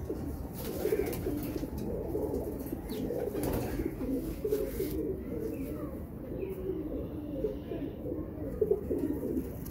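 Long-feathered pigeons coo continuously nearby, a dense overlapping chorus of low throaty burbling calls with a few faint chirps and rustles mixed in.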